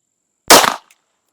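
A single sharp pistol shot fired with Blazer 147 grain standard-velocity ammunition, loud and close, cracking briefly and then stopping dead, with a faint click after it.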